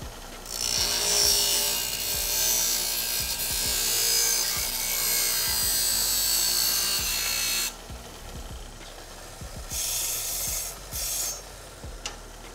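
A golf wedge shaft is sawn on the line with a close, rasping cutting sound in quick repeated strokes, which stops abruptly partway through and is followed by a few short scraping bursts.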